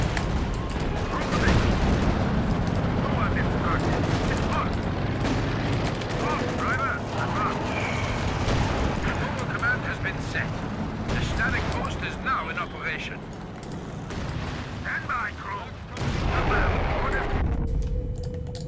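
Company of Heroes 2 4v4 battle with a 17-pounder anti-tank gun firing amid a dense, continuous din of gunfire, artillery and explosions, with frequent loud impacts throughout and someone talking over it.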